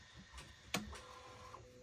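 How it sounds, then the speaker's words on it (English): A 3D printer running quietly in a room, faint mechanical whirring with a sharp click partway through and soft motor tones, distant and low in level. "Ignore the noise if you hear it in the background. That is my 3D printer doing stuff."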